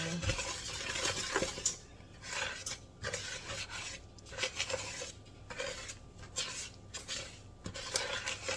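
A wooden spoon folds flour into brownie batter in a bowl, making soft, quiet scraping and rubbing strokes with occasional light knocks against the bowl, with no talking.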